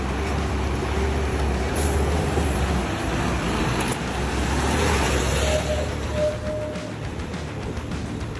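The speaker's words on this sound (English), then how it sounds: "the roaring engines shatter the silence of the forest" Heavily loaded timber trucks pass along a forest road with roaring engines, a loud continuous low rumble and grind that holds steady for several seconds before easing slightly.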